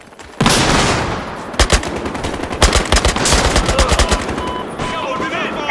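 Rapid bursts of automatic gunfire in the video game Battlefield, loud and close, with a dense rattling battle mix and some voices shouting beneath.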